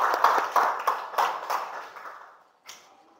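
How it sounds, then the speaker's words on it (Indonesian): A class of students claps briefly in a classroom, a short burst of scattered hand claps that fades out, followed by a lone faint clap. "Oke, tepuk tangan buat kalian semuanya."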